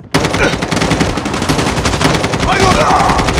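Rapid automatic gunfire from a Call of Duty match, a loud, dense stream of overlapping shots with almost no gaps throughout.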